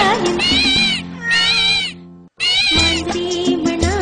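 A cartoon cat in an animated children's song meows loudly and closely in long, wavering cries, with a musical backing throughout.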